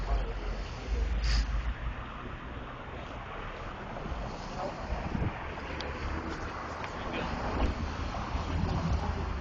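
Strong wind blusters outdoors around tents, a constant loud roaring buffet against the microphone with gusts swelling and easing throughout.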